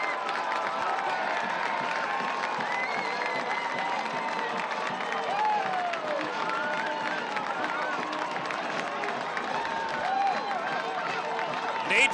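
A soccer stadium crowd at a Hartford Athletic versus Pittsburgh Riverhounds match roars and cheers after a goal, a broad sustained wash of voices, with commentators talking over it.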